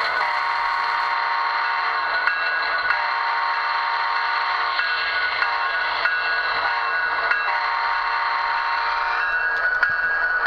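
A model locomotive horn sounds alone as one continuous, loud, steady tone for about ten seconds, with no talking over it.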